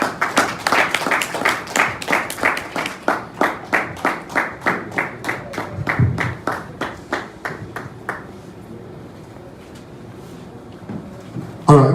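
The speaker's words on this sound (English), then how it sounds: "please, another round of applause for Mr. Bolagade" A crowd claps at the close of a presentation at a youth empowerment event, a dense, steady burst of applause that thins out and fades around eight seconds in, leaving a quiet room.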